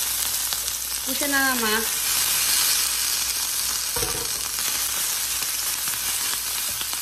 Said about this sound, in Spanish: vamos a agregar tantito aceite para calentar tortillas y darle otra calentadita a nuestra carne